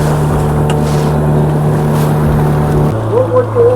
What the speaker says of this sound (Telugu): బోట్ వెళ్తుంది ఇప్పుడు అక్కడి నుంచి.